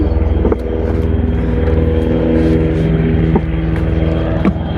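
A steady, droning rotor and engine hum, loud and close, with occasional faint knocks on top.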